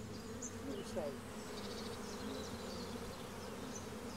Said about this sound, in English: These bees are great, they're awesome.